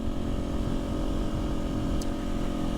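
A Kawasaki Ninja 400 motorcycle fitted with an aftermarket exhaust idles or runs steadily nearby, giving a continuous throaty engine drone with no talking over it.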